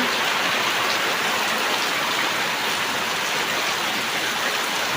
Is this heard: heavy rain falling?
yes